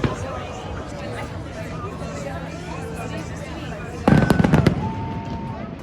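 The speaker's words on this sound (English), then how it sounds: "So we're on the rooftop of my hostel watching the Australia Day fireworks." Australia Day fireworks over Sydney, watched from a hostel rooftop, erupt in a loud cluster of crackling bangs near the end, while a busy crowd chatters steadily throughout.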